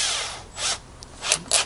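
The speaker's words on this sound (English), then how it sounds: "it's drilling through this jet drill" A handheld drill bit working through a soldered carburetor jet, heard as short, close bursts of whirring and grinding separated by brief pauses.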